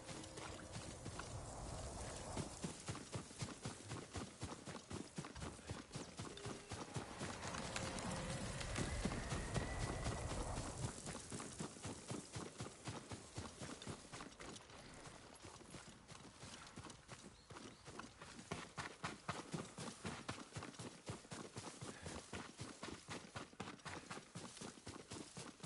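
Horse hooves clip-clop in a steady rhythm for a long stretch, with a faint whinny partway through, moderately quiet, in the video game Ghost of Tsushima.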